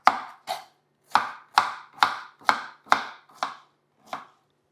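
A knife chops through pineapple on a cutting board in nine crisp, evenly spaced strokes, close and clear with no voices.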